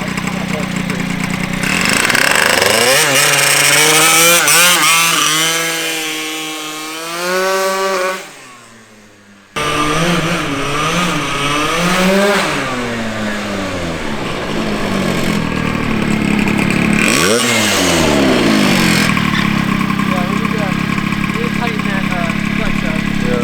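A Honda Elite moped with a 120cc stroker engine revs hard and loud, its pitch climbing and falling in repeated sweeps, cutting out briefly then roaring back, with someone talking over it.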